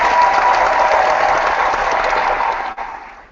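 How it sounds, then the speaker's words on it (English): Applause for tennis player John Isner rises as a dense, steady wash of clapping from a crowd, then fades away near the end. "Let's give him a round of applause."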